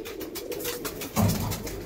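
Saharanpuri high-flying pigeons coo in a loft, a low, soft burbling that swells partway through, with rustling and background noise throughout.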